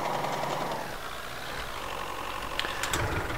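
YuMZ tractor engine idling in Farming Simulator 19, a steady low rumbling idle with a faint mechanical rattle, close and continuous, with a couple of brief clicks near the end.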